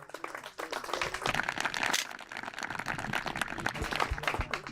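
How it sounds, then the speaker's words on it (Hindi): A studio audience on a farmers' quiz show applauds a prize winner, with a dense, fairly distant patter of many hands that holds steady for several seconds. "जोरदार तालियां बजाइए जरा।"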